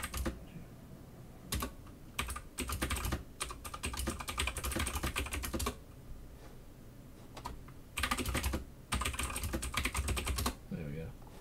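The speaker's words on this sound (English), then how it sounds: "people always complain about my bloody keyboard" Computer keyboard typed on during a horror-game livestream, with irregular bursts of rapid clacking keystrokes that break off into brief pauses and then resume.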